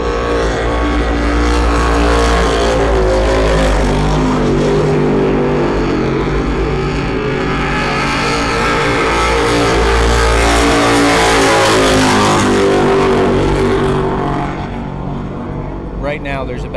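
Racing powerboats roar past during the Lake Hopatcong Grand Prix, their engines a loud, sustained drone that swells and fades as boats pass.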